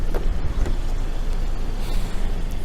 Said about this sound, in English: The car is on so you can hear it.